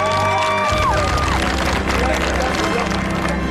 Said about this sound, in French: On peut les applaudir, hein?